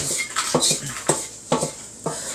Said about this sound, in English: We're going to saute our onions.